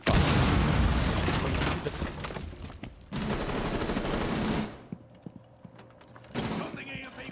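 Dense rapid gunfire and bursts from a Rainbow Six Siege match, loud and sustained for several seconds, then dropping to quieter scattered shots before another burst near the end.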